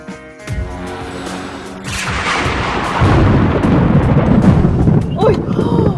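Heavy rumbling thunder rolls and cracks loudly, building into a sustained deep roar with crackling bursts, close and powerful.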